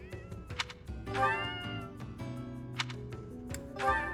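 Several meows from a cat in Fire Emblem Three Houses, bright and near, repeating at irregular intervals over soft game music.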